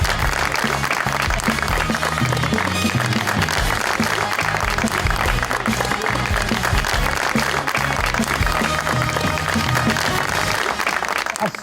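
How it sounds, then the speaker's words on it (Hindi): Studio audience applause welcoming a guest onto a talk show, dense sustained clapping that stays loud and even for the whole stretch, with no voices over it. "बहुत सारी तालियों में वेलकम कीजिएगा"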